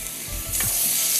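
Marinated fish laid into a hot pan, with a couple of soft placement thumps followed by a bright sizzle that swells and keeps hissing steadily up close.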